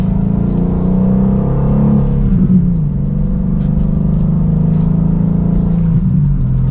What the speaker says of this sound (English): let's hop into a different manual M2 and see what it's like to drive. And from second gear, here we go.